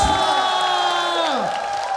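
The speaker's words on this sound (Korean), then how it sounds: "멋진 무대를 선사해 주신 우리 강진 씨에게 뜨거운 박수 부탁드리겠습니다." A studio audience of a Korean trot music show cheers and whoops after a stage performance. Voices shout loudly and continuously over the crowd noise, and some clapping can be heard in it.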